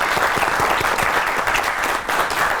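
Studio audience at a Pakistani comedy talk show clapping to welcome a guest, loud, dense applause sustained through the short clip with no speech.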